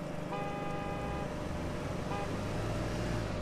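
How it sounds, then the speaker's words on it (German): Car horns honk in a gas station simulation game, a sustained toot and then a shorter one, somewhat distant beneath a constant rumble of engine and traffic noise. "jetzt geht das Gehupe nämlich hier hinten schon wieder los"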